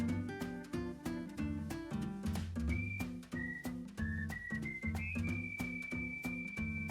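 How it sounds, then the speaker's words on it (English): A synthetic, high whistled melody line glides over steady organ-like chords and a pulsing rhythmic backing in Deadly Premonition 2 game music, sustained and prominent in the latter half. "Even the whistling sounds kind of synthetic."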